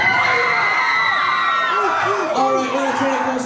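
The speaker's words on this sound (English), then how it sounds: "Put your hands up like this, like that, and say woo! Can you do that? And scream really, really loud." A crowd of children shout "woo" and scream loudly together, their high voices rising and swooping in overlapping whoops that fill the whole stretch without a pause.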